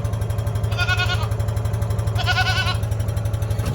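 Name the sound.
goat bleating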